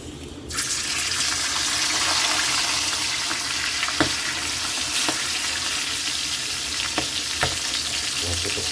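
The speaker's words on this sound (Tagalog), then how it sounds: "Kay mainit na yung mantika natin. Pwede natin ilagay ang ating tuna." Tuna dropped into hot cooking oil for an adobong sitaw dish sets off a loud, steady sizzle and crackle that runs continuously, with a few sharper pops and spatters scattered through it.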